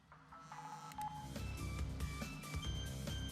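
Phone ringing and dialing tones in a video game, a short series of electronic beeps and chimes over soft background game audio, fairly quiet and close.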